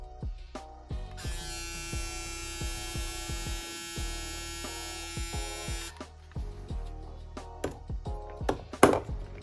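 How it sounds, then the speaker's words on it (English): After some clicks and handling noise, a Braun Series 9 electric shaver starts up with a steady, bright buzzing hum for about five seconds, then stops. A few knocks and rustles follow. "So this is the Brown Series 9 shaver."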